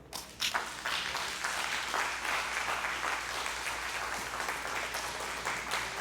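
A church congregation applauds together in sustained, dense clapping that fills the room for several seconds after a sermon line, with faint scattered voices underneath.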